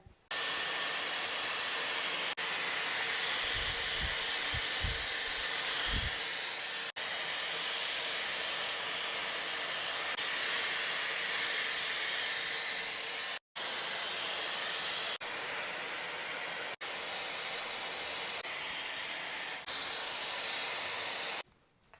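A Dyson Airwrap hair dryer blows steadily over strands of hair, a loud, close, continuous airy roar with brief cutouts where it switches off and back on, and no talking.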